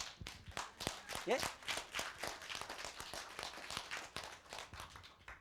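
An audience at a lecture on classical Chinese characters claps for several seconds in quick, scattered claps of moderate loudness. A brief spoken interjection comes partway through.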